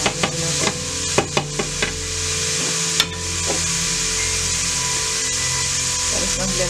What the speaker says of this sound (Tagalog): Tapos lutuin muna natin yung ground pork natin.